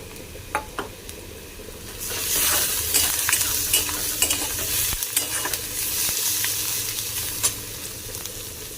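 Chopped garlic and ginger fry in a pan, building from a light crackle to a loud, steady sizzle after a couple of seconds, with scattered stirring scrapes and knocks and no voices.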